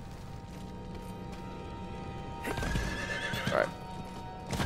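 A horse whinnies sharply near the end, rising and falling, over steady Diablo IV game background noise and faint hoof clatter; someone speaks a single word beforehand.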